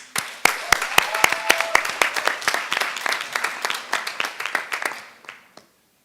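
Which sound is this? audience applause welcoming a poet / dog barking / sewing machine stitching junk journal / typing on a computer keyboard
audience applause welcoming a poet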